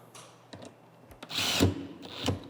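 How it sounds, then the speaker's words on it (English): A power drill drives wood screws into a box, with short bursts of whirring and clattering near the mic. "get all these wood screws fastened"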